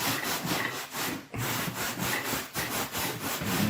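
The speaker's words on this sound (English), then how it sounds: "I'm going to use this brush right here, and I'm going to brush it all in, just like this" A brush scrubs shaving cream into a car floor mat on an old pool table, rapid back-and-forth rasping strokes repeating steadily at close range, with one brief pause.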